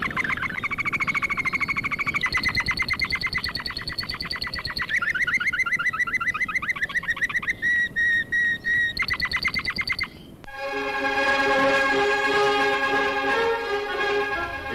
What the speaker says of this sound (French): Écoutez bien maintenant les notes rarissimes du récital du canari ténor.